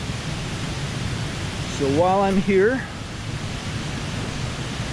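The Salto de la India waterfall in San Vicente de Chucurí, Colombia, roars as a steady broadband rush heard from near its top, filling the whole stretch, while someone speaks briefly over it midway.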